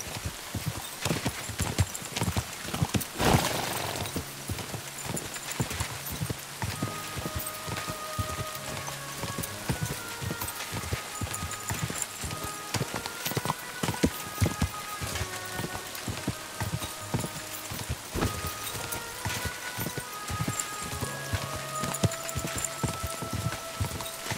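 Steady rhythmic hoofbeats of galloping horses in the video game Kingdom Come: Deliverance II, over a dense, continuous background wash, with no talking.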